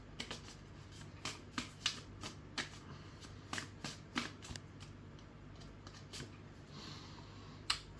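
Tarot cards shuffled by hand in a quiet room, a string of soft crisp riffles and flicks with irregular sharp peaks, close and fairly faint, with no voices.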